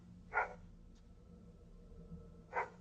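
A person on all fours imitating a dog, giving two short barks about two seconds apart, fairly faint over a quiet low background hum.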